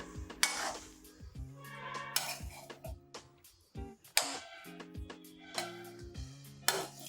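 Gobi fried rice with masala being stirred in a pan, a run of metallic scraping and clinking strokes at a steady rhythm, close and fairly loud, with no talk over it.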